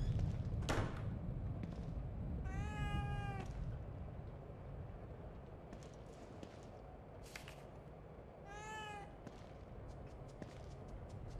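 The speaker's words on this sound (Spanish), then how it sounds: "Un gato." Two drawn-out cat meows, several seconds apart, cut through a low rumbling ambience in the horror game The Evil Within 2, with a sharp crack early on and faint clicks between.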